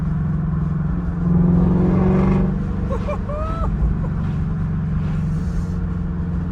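A Shelby's V8 engine rumbles steadily nearby with the windows down, swelling briefly into a louder rev before settling back to a throaty idle, with some chirpy squeaks over it.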